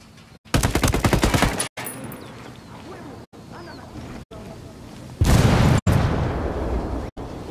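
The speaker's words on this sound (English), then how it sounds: "looks like they heard that explosion" Gunfire bursts and explosions in the Ghost Recon Wildlands video game, with loud rapid automatic shooting, a heavier blast near the end, and a voice talking between the shots.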